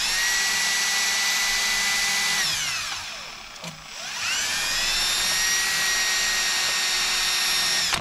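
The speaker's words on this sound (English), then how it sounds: "I don't feel like getting the air wheel out, so I'm just using the drill" Power drill with a wire brush cleaning the battery terminals on a 2004 EZGO TXT gas golf cart, a loud close steady whine that spins down, pauses briefly, then revs back up to full speed.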